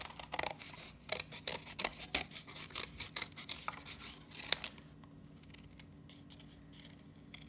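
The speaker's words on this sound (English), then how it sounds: "I'm gonna take my scissors, I'm gonna go ahead and cut that." Scissors snip through paper in a quick run of sharp, close cuts with brief pauses, then fall quiet near the end.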